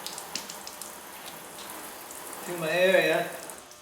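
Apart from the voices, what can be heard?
water being added to truck paint for wet sanding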